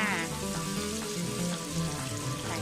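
Shrimp stir-fries with garlic, black pepper sauce, oyster sauce and fresh milk, giving a continuous close sizzle with light stirring and faint tonal sounds in the background.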